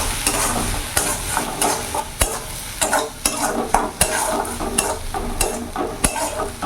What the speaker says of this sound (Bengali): এবার ভালো করে আমি মশলাটা কষিয়ে নেব।